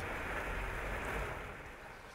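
Steady water flow through the channels, pools and fountains of Fin Garden in Kashan, a continuous even rushing wash that fades slightly toward the end, with no voices.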